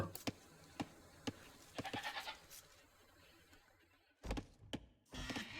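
Sheep in an Age of Empires–style strategy match bleat in short bursts, several separate calls spaced apart, with clicks and quieter game sounds between them.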